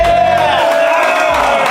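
A large crowd at a live show at Station 21 in downtown Crown Point keeps up a dense, loud, steady roar of voices and cheering throughout.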